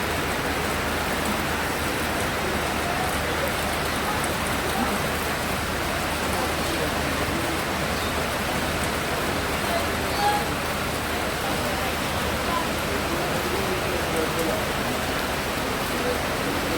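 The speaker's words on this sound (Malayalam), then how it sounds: "ഈവനിങ് ആകുമ്പോഴേക്കും നല്ല മഴക്കാറങ്ങ് വെച്ച് മഴ പെയ്തു തുടങ്ങിയിട്ട്" Steady evening rain falls at a cottage in Thattekad, a dense, even hiss of drops that continues unbroken for the whole stretch.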